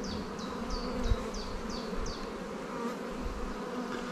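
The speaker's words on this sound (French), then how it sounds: "Hop, pousser les abeilles." Honey bees hum steadily around an open spring beehive, a close, dense drone heard alone, with a faint rhythmic run of squeaky chirps early on and no talk.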